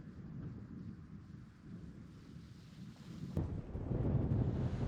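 Wind gusting across a wild camp beside Llyn Y Fan Fach lake, buffeting a Terra Nova Southern Cross tent, a steady low rumble of microphone-battering wind that swells louder and rougher in the final seconds, with no talking.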